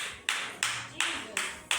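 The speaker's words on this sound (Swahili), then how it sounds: "Ndio makofi mtu mmoja." A single person claps five times in a steady, even rhythm inside a church, each sharp clap ringing briefly in the room, with faint murmuring in the background.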